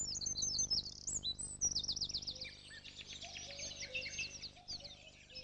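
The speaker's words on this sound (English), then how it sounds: "Their enthusiastic song is astonishingly loud for such a tiny bird. A bravado performance, prolonged, high-pitched and full of churs and machine-gun-like rattles." A wren delivers a loud, prolonged, high-pitched song packed with churs and rapid machine-gun-like rattles, ringing out close by over a faint low background hum.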